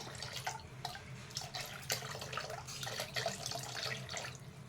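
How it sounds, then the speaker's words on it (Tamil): Steady splashing and trickling of water poured into a cooking pot, continuous and fairly quiet throughout with small irregular drips. "இப்போ இன்னும் கொஞ்சம் தண்ணி மிக்ஸ் பண்ணிக்கலாம்"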